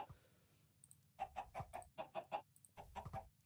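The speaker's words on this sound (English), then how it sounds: "Our defenses are handling these chickens." Chickens in the Minecraft game Hypixel TowerWars give a quiet burst of short, rhythmic clucks in a quick series, a faint blocky game sound heard alone with no talk.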